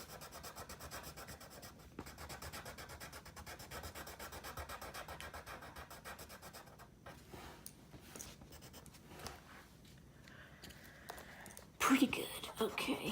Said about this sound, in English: See how when I rub that in, it gets all brown?